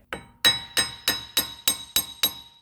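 A hammer taps a press-in wheel bearing into place on a 2014 Toyota Venza, giving eight sharp metallic strikes in a steady rhythm with ringing, clinking overtones, close and clear with no talking.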